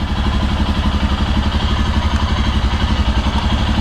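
A Royal Enfield Himalayan motorcycle engine running after starting, a loud, steady close-up single-cylinder thump with mechanical clatter and a pulsing low rumble throughout.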